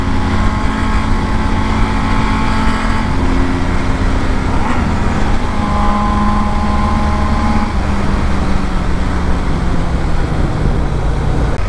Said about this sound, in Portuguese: Tá roncando lindo essa moto